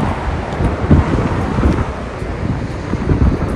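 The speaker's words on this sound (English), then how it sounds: "So as you'll probably hear in the audio, it is very windy here." Strong wind buffets the microphone at a coastal campsite in Victoria, Australia, a loud, continuous gusty rumble with surging peaks and no talking.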